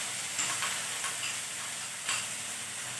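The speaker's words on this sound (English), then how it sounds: "I will stir it once." Stirring red bell pepper and grated paneer in a hot pan, producing a steady close sizzle with soft scraping strokes of the stirring utensil rising briefly through the frying hiss.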